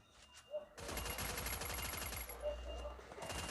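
A new automatic gun fired in a shooter game's training mode, a rapid loud burst of shots lasting a couple of seconds after a brief quiet start.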